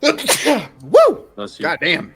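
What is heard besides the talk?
sneeze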